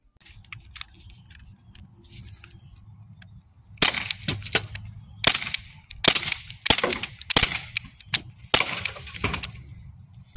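Sharp popping shots from an Umarex T4E TR50 less-lethal launcher fire in an irregular series, loud and close, after a few seconds of quieter handling clicks.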